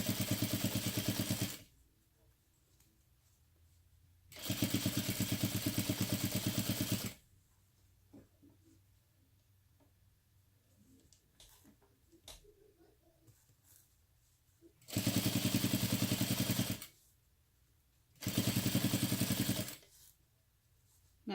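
Home sewing machine stitching fabric for a crossbody bag in four bursts of rapid whirring separated by quiet pauses with faint background clatter.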